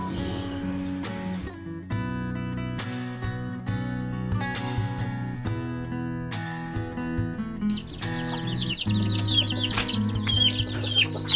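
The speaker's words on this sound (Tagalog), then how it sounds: "tigil-tigilan mo yung mga manok ko" Chickens cluck repeatedly in short, irregular bursts nearby, with occasional higher chirps and a busier flurry of calls toward the end, and no talking.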